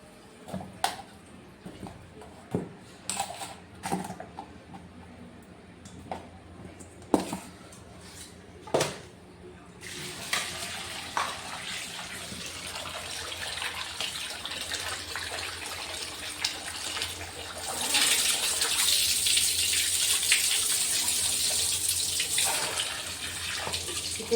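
Chicken is washed for a gravy in a home kitchen: scattered clinks and splashes at first, then a tap runs steadily, its gush growing louder and fuller toward the end.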